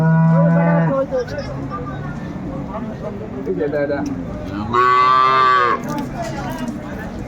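Dairy cows and calves low loudly at the Ambari cattle market in Dinajpur, with two long moos near the start and later in the clip amid crowd chatter and someone speaking.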